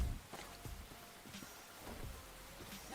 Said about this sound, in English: It's raining while it's sunny.